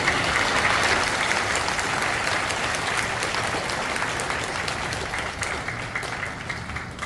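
A church congregation claps steadily and loudly at a worship service in a seventh-floor sanctuary as a pastor comes forward, a dense wash of applause that holds for several seconds and eases slightly toward the end.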